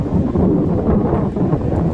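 Steady sea wind at Digha beach buffets the microphone with a constant low roar for the whole stretch, loud and broadband with no talking.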